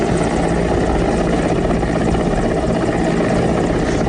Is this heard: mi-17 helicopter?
yes